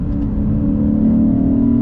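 A 2022 Lexus IS 500 F Sport Performance engine drones loudly and steadily under load while downshifting, a deep rumbling tone that rises slightly in pitch, heard from close by with no talking.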